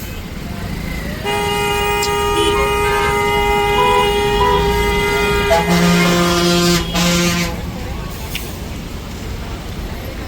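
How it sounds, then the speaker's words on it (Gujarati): Busy Diwali-season road traffic fills the scene as several car and truck horns honk and overlap continuously over a steady engine rumble, with voices faintly mixed in. "દિવાળીનો ટ્રાફિક"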